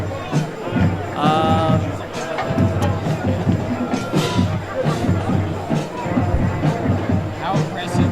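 Crowd murmur and scattered cheering from the student section at a high school varsity football game, a steady dense babble with brief whistles and shouts, heard under a commentator's voice.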